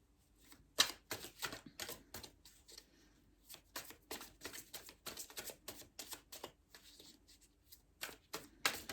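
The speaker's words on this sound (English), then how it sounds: "while I'm choosing the cards" Tarot cards shuffled and picked from a deck, a long run of crisp riffling snaps and soft flicks coming in quick uneven bursts, close and fairly quiet, with no talking.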